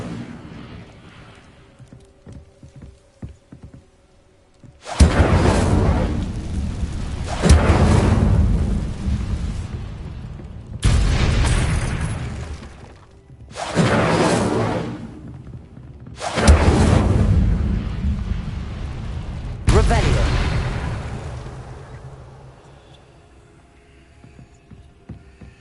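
Incendio fire spell in Hogwarts Legacy, cast several times as heavy booming whooshes, each loud burst lasting a second or two with gaps of quieter rumble between.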